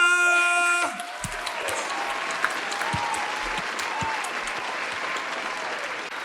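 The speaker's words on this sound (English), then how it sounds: "a massive round of applause up to the front for Laura" Loud, sustained applause from a studio audience at a televised talent search, a dense steady clapping that follows a brief musical sting at the start and continues throughout.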